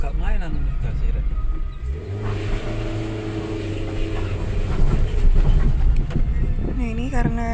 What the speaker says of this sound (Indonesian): ini jadi agak susah untuk nanjak mobilnya